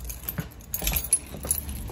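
Keys jangle close by in short rattling bursts for a couple of seconds, with faint car background and no talking.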